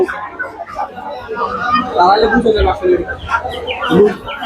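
Large rooster at a hot poultry market, giving close clucking and crowing-like calls amid the bustle of the market, with people talking over and around the birds.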